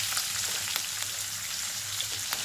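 Chopped onion, curry leaves and a pinch of asafoetida sautéing in a pan for an egg bhurji, giving a steady close sizzle with faint scattered crackles and no voices.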